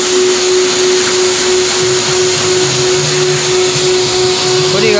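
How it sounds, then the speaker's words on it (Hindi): A vacuum cleaner runs continuously during a car service, cleaning the car's interior with a loud, steady motor whine and a hissing airflow that never lets up. "ये वैक्यूम क्लीनर है"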